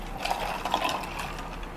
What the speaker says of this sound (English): Pour my hot coffee in there.